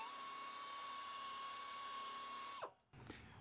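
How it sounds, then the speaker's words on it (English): Pneumatic buffer grinding the inner rubber surface of a tire to prepare it for a patch repair, a steady high-pitched whine that winds down abruptly near the end, followed by faint handling noise. "We're going to get ready to buff that area down, so it'll be one surface for the patch to bond to."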